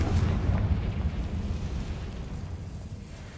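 A fiery Confringo spell blast in the Hogwarts Legacy video game, a loud, deep rumbling explosion that starts strong and slowly fades as a sustained roar.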